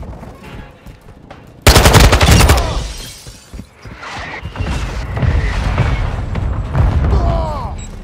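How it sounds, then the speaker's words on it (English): Mortar strike explosions in the video game Call of Duty: Modern Warfare II, a loud rapid burst of blasts and gunfire followed by rumbling booms, with voices speaking intermittently. "Enemy mortar strike active!"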